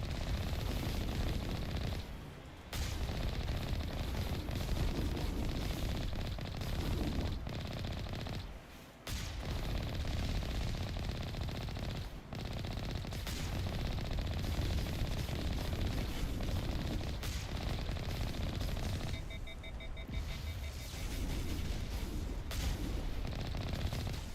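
Sustained heavy weapon fire and cannon blasts in the video game Mass Effect: Legendary Edition, a loud, dense barrage of rapid shots and booms running almost continuously with only brief gaps.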